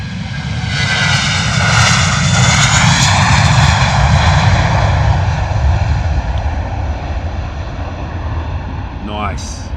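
An Airbus A320 roars loudly at London Luton Airport, its jet engines spooling with a sustained whining drone that slowly fades, and a voice briefly cuts in at the end.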